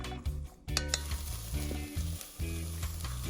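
Vegetables for mushroom-barley soup sautéing in a pan, a steady close sizzle with occasional stirring scrapes and a low hum underneath, no talking.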